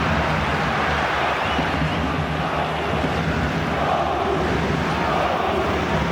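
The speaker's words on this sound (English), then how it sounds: "that effort has certainly inspired the crowd, because they've gone up a gear a little, with their sound" A football stadium crowd at Borussia Dortmund versus Arsenal gives off a steady, dense roar, a continuous wash of massed voices that stays even throughout, with no clear single cheer standing out.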